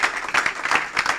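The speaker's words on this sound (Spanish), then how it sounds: "Es una ofrenda de palmas al Señor." A congregation in church breaks into brief, loud, dense applause, many hands clapping together in a short burst.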